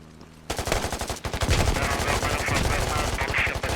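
Loud rapid automatic gunfire bursts out after a brief quiet moment and keeps rattling continuously, dense and close.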